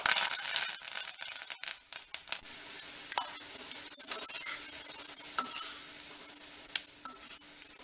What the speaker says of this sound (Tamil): அந்த கறிவேப்பிலையும் நல்லா முருகணும்